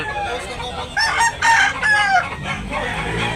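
A gamefowl rooster, a Green League Japan bird at a chicken market in Cebu, crows loudly and close, its strained call rising and wavering over low background market noise.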